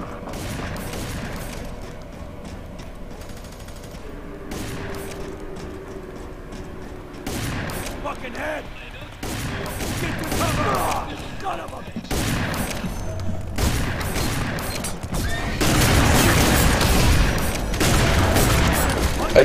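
Gunfire in a FEAR 3 multiplayer match on the Black Gold map, with scattered shots and heavier bursts growing louder toward the end, mixed with booms, mechanical clanks and occasional voices.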